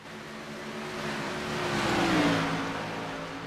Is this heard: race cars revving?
yes